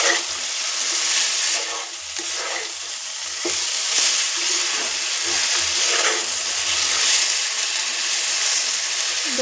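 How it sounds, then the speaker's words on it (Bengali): Potatoes sautéing in a hot pan for an egg dish, a loud steady sizzle broken by scraping stirs every second or two, close up and with no voices. "এবার ভালো করে আলুটা কষিয়ে নেব।"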